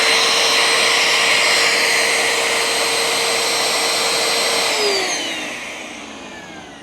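Bissell ProHeat Essential carpet cleaner motor running with a loud steady whir close by, then winding down in pitch and fading near the end, alone with no voices.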